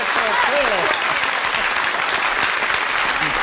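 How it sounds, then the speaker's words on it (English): A studio audience on a 1972 television game show breaks into steady, dense applause, a continuous wash of clapping filling the whole moment. "One thing I've never understood about the show is why people applaud for things like that"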